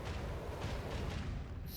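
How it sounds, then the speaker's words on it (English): Macro cannons fire a volley in the Warhammer 40k Rogue Trader video game, a loud, dense barrage of overlapping booms and rumbling blasts that continues without a break. "Macro cannons, volley!"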